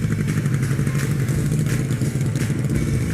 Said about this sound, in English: You're probably busy doing stuff like riding your motorcycle.